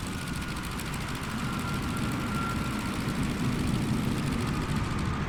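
Engine drone from a Fokker F.VII propeller plane in Microsoft Flight Simulator 2024 career mode, on a flight from Sydney to Canberra: a steady, even, moderately loud cabin-level hum with faint rhythmic propeller pulsing, no voices.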